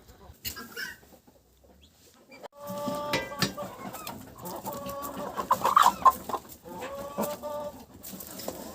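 Several chickens cluck and squawk close by, with short bursts overlapping in an uneven, busy rhythm over faint farmyard background.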